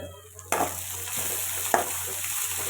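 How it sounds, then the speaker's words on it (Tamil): Ginger garlic paste sizzles steadily as it fries in a pan, with a few sharp scraping stirs of a utensil standing out over the hiss. The sound is close by. "இஞ்சி பூண்டு பேஸ்ட்டு பச்சை வாசனை போனதுக்கப்புறம் தக்காளி சேர்த்துக்கிறேன்."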